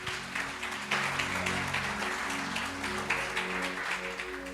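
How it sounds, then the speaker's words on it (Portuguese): A congregation at a Brazilian afternoon church service claps together, moderately loud and sustained, with a sustained musical tone, likely an organ or keyboard, underneath. "Aplauda o Senhor Jesus."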